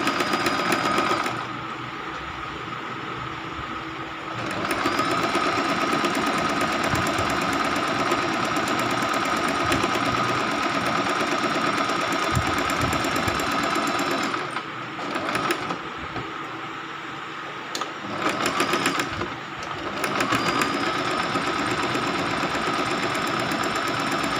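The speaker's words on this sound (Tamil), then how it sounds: "பக்கத்துலேயே இன்னொரு தையல் போட்டு விட்டுறணும்" A sewing machine stitches a kurti seam with a steady, close mechanical whir that runs almost without a break, easing off briefly a couple of times near the end.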